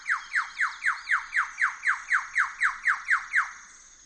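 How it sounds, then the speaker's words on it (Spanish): A male superb lyrebird repeats about fourteen squeaky, downward-sliding notes in a fast, even rhythm, loud and close, then falls silent, with no voices present. "Es un macho de ave lira"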